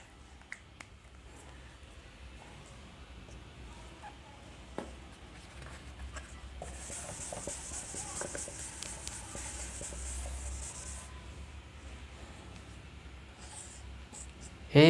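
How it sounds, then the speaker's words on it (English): Pen strokes on paper while a minimized DFA diagram is drawn by hand: soft, scattered scratching and tapping, faint and close, busier in the middle stretch, with no talking. "Now drawing the complete minimized DFA."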